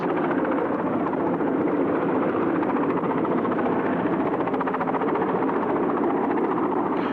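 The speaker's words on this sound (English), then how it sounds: "So up I went in one of their air-sea rescue choppers" An air-sea rescue helicopter in flight produces a loud, constant rotor and engine drone with a steady throbbing texture, heard up close throughout and with no speech.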